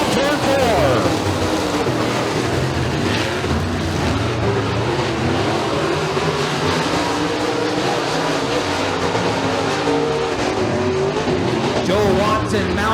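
Race cars battling for position at Bradford Speedway, engines roaring continuously at close range with occasional tire squeal, under steady commentary from an announcer.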